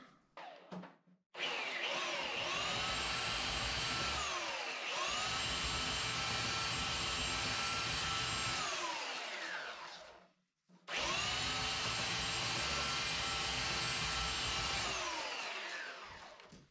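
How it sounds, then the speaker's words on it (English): A belt sander works on a wooden strip canoe, its loud motor whining up to speed and running steadily in two long passes with a brief stop between, then winding down. "I'm just going to grab the belt sander and sand that little hump out of there"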